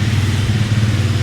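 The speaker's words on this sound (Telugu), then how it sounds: "బైక్ ఐడీలో ఉన్నప్పుడు అయితే ఇలాగైతే సౌండ్ వస్తుంది" A Hero Xtreme 250R, a 250cc motorcycle, idles close by. Its exhaust gives a steady, deep, even thrum, loud and uninterrupted.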